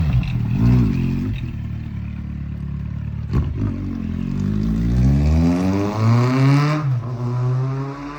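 A Kawasaki Z750 motorcycle revs and pulls away, its engine note climbing through gears then fading as it leaves, loud and close at first, with a clunk partway through.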